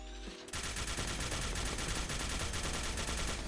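Gravitational minigun from a Fallout 4 weapon mod fires a dense, unbroken stream of rapid shots after a brief quiet lead-in, loud and steady for about three seconds.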